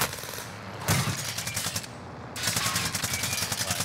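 Rapid automatic gunfire from the video game Warzone, loud bursts of close shots with a short pause in the middle before another sustained stream of fire.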